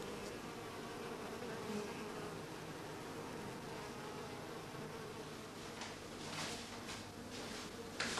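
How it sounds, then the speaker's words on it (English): A small wintering honeybee colony clusters quietly inside its hive, giving a soft, steady, continuous hum that stays faint and even throughout. "the bees have fused into a small colony, and their contented, quiet clustering shows this clearly"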